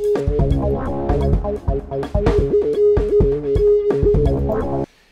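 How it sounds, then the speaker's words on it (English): Music fed through the Airwindows Wolfbot plugin, its Kalman filters going nonlinear, comes out as a choppy, warbling track with a steady droning tone and gated, stuttering bursts of synth and percussion before it cuts off. "what you're hearing is the Kalman filters going nonlinear and weird in two separate ways."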